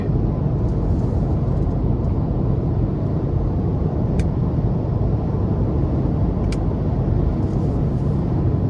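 A 2023 Hyundai Kona Electric Limited accelerating at full throttle produces a steady low road and motor rumble inside the cabin. Two faint ticks break the drone.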